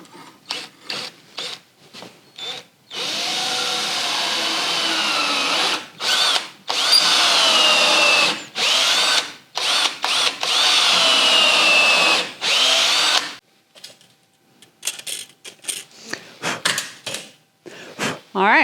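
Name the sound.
power drill drilling wood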